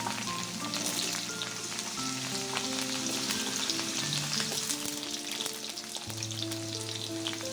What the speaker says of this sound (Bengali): এখন এর মধ্যে কেটে রাখা বিন আর গাজরের টুকরো দিয়ে দেব।